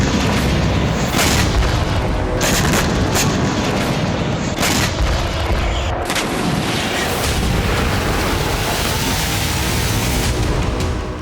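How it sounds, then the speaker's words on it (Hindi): Heavy bombardment explosions from Israeli air force strikes in Lebanon, a dense continuous roar of booms and blasts that stays loud and rumbling throughout with no break. "24 घंटे के अंदर यहां इजरायल ने 3 बार भीषण बमबारी की।"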